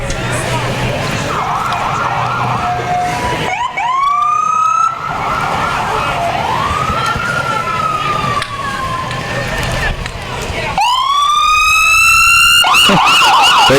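Ambulances and an emergency service vehicle from Park River pass in a Fourth of July parade, sirens wailing and rising loud and near with rapid yelp sweeps, over a crowded street with voices.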